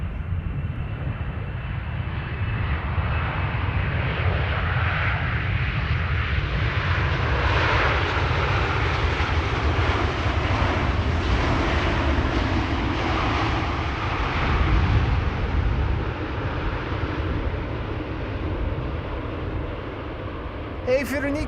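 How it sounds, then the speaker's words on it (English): A Qatar Airways airliner arriving from Doha lands on the Polderbaan runway at Amsterdam Schiphol, a loud sustained engine roar that swells and fades slowly while a voice talks over it. "this is Qatar flight 8207 arriving from Doha"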